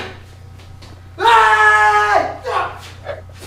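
A wrestler in the ring at an indoor wrestling event lets out a loud, sustained scream lasting about a second, followed by a few shorter shouts over faint crowd noise and a low background hum.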